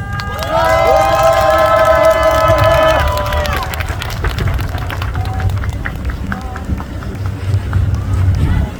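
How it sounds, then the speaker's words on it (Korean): An outdoor candlelight rally crowd cheers loudly with shrill whistles and shouts at the start, then settles into scattered clapping and murmuring voices. "박수로 맞아주십시오"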